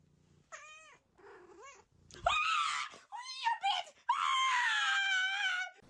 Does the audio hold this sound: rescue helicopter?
no